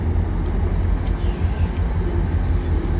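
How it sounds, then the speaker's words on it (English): CSX freight train in Clinton, Massachusetts coupling an ex-Guilford locomotive, heard as a steady low rumble of idling diesel engines with a faint high whine, continuous and close, no voices. "Gonna add an engine to their train,"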